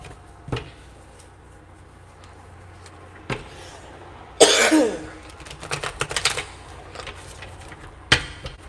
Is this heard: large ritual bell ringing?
no